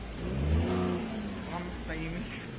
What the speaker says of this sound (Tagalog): Rev mo nga Nico, para makita yung tambucho.